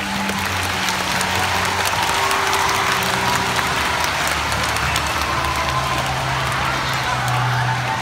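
A big round of applause from a crowd, dense steady clapping that fills the whole stretch at full loudness, with some voices mixed in underneath.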